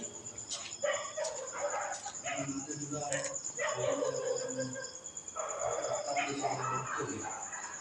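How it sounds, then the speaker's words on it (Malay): A dog barks and yips at night near an abandoned, reputedly haunted flat complex in Kuala Lumpur, heard under steady insect drone while people talk over it. "Lain macam bunyi anjing ni, geng."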